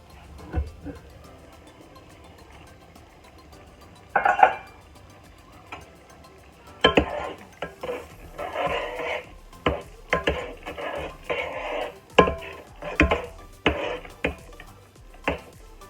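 A pot and utensils clattering while pasta cooks, irregular close knocks, scrapes and clinks in bursts, with a voice talking over them.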